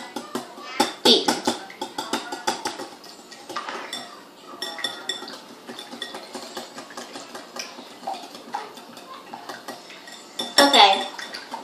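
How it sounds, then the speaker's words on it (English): Eggs are whisked in a bowl with rapid, continuous metallic clinking and tapping against the sides, close and fairly loud, with brief voices in the background. "you're going to want to take your whisk and you're going to want to whisk your eggs till your yolks are beaten"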